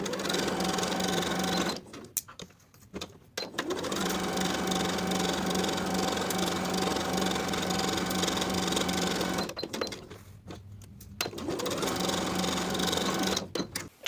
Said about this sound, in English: Then we'll sew starting over the folded edge of the uninterfaced piece, pivoting at the corners to the bottom of the opposite edge with a 3/8 inch seam allowance